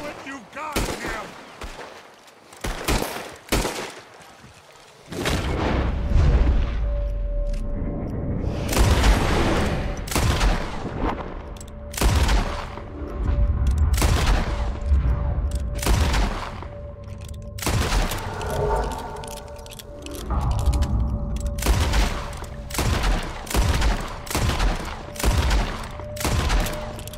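Heavy gunfire rages in a Red Dead Redemption 2 shootout, with dense volleys of close, loud shots and rapid bursts sounding almost continuously. They come over a steady rumbling background, with brief lulls and occasional voices.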